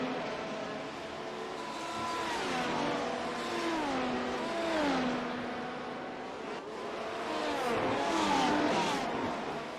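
Simulated race cars at Zandvoort in the iRacing Grand Prix Series, including a tyre lockup: continuous engine roar with rising and falling revs through gear changes, heard under a broadcast mix.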